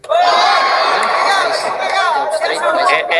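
Spectators at a boxing match erupt into a loud, sustained wall of cheering and excited chatter, with whoops and shouted voices cutting through the crowd noise throughout.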